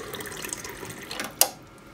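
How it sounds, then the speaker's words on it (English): Lever of a Japanese hot and cold water dispenser pressed by a glass to release cold water: low mechanical clicking and faint running water, then a single sharp click near the end, close and quiet. "press the glass against this padding, this lever, and you can release it"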